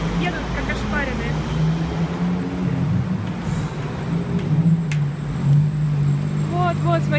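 Heavy traffic on a busy Bangkok street, with a continuous engine rumble and vehicles passing close by, plus a few horn-like tones and people talking nearby.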